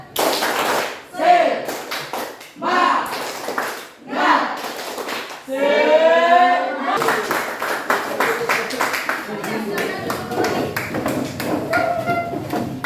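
Group of children clapping the rhythmic Indonesian 'tepuk semangat' cheer in a classroom ice-breaking game, loud bursts of patterned claps alternating with chanted voices over about thirteen seconds.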